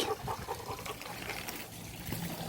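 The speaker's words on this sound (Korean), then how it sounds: "시원하라고 계속 물 틀어놓는 거야." Tap water runs steadily into a shower at home, a soft continuous trickle and splash heard close by without speech.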